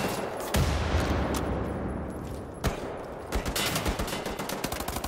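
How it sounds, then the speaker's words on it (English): Gunfire in the shooter Wolfenstein: The New Order: bursts of rapid shots and single sharp cracks, loud and close, scattered across the moment with a flurry of quick reports near the end. "I'm being shot at."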